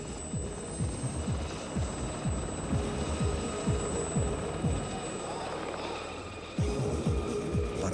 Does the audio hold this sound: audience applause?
no